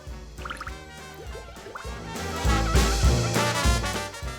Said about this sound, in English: Now we're gonna pour this drink into here, and we already have a nice large clear ice.